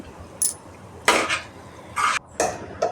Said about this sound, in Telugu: చికెన్ కూడా ఆయిల్లో మంచిగా మిక్స్ అయ్యేలాగా అల్లం వెల్లుల్లి పేస్ట్ అంతా పట్టేలాగా మంచిగా కలుపుకోవాలండి